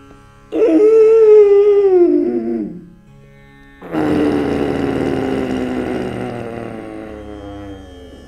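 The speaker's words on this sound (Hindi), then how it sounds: "गले से ही सांस लेना है, गले से ही सांस गुर्राते हुए सांस को छोड़ना है" A yoga instructor demonstrates ujjayi breathing, exhaling through a constricted throat to make a loud, vibrating, growl-like rasp. Two long breaths come close together, the second rougher and longer, with no talking.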